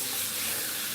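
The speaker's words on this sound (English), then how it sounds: "we're now rinsing out all of that heavy groomer's goop" Running water rinses heavy groomer's degreaser out of a Maine Coon cat's fur, a steady, close hiss of flowing water with no pauses and no voices.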